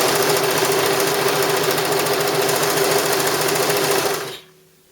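A Brother 1034D serger stitches steadily with grey thread, its rapid mechanical whir close and loud for about four seconds before it stops abruptly into near silence.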